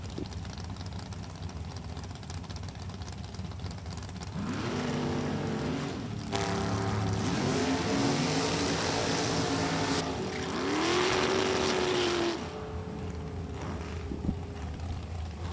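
A loud drag racing car with a 457-cubic-inch American Motors engine roars as it revs up and pulls away, its pitch climbing through the gears. A second burst follows and then fades into the distance.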